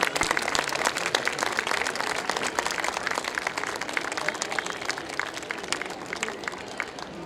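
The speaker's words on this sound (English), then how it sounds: "Please give them a huge round of applause." At a school's annual day and prize distribution ceremony, a large audience applauds the award winners. The clapping is full and continuous throughout and eases slightly toward the end.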